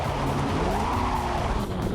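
A 2022 Cadillac CT5-V Blackwing sedan with its traction control loosened squeals its rear tires, producing a continuous, loud engine roar mixed with tire screech over damp pavement, steady and close throughout.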